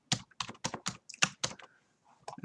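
Short word being typed on a computer keyboard: about eight crisp, close keystrokes in a quick uneven run, then a pause and one last pair of taps, with no voices.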